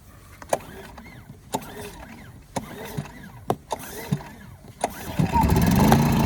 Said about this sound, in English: We're going to pull the choke, and we're going to pull the handle.